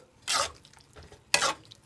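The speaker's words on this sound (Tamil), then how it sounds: "இதை நல்லா கலக்கி விட்டுரலாம்" Two short scraping swishes of a spoon through wet bitter gourd (pavakkai) tamarind curry in a pan, separated by a quieter pause, close and moderately loud.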